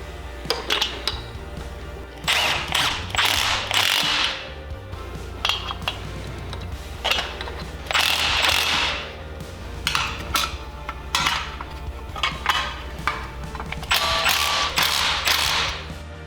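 Metal tool clinks and ratcheting taps ring out while valve covers are fitted on a 670cc Predator V-twin engine, a series of close, sharp metallic bursts in irregular clusters with quiet pauses between.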